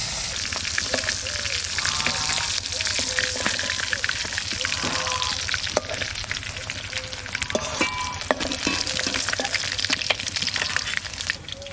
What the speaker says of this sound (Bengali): মাছ ভাজা হয়ে গেছে, এবার তুলে নেব।